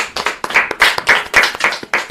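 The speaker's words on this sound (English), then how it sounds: "I just want to give a round of applause to Elon Musk." A round of applause for Elon Musk from a small audience: steady, close hand clapping with individual claps clearly audible, rising and falling in bursts without pause.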